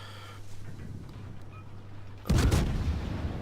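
After a low hum, the naval guns of the cruiser Mikhail Kutuzov in a video game fire in a sudden loud, booming salvo that rumbles on through the final second.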